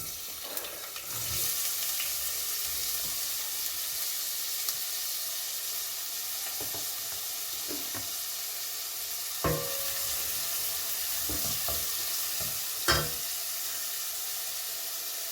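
Onions sizzle and hiss steadily in a hot pot for lentil soup, with occasional sharp clinks and scrapes of a utensil against the metal.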